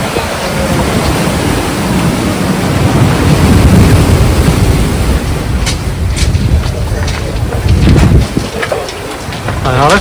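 Sea waves surge and break onto a rocky beach in a steady, loud wash of surf with gusty wind noise, the roar swelling as each wave rushes in.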